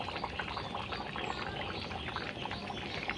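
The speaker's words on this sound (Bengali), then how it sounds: "এতে অল্প ঘি, 1 চামচ ঘি দিয়ে দেব" A spoonful of ghee goes into simmering banana kofta curry, giving a soft, continuous bubbling and sizzling, close but quiet, with no voices.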